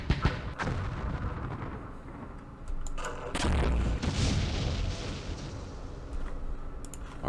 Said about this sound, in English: Let's use the mortar.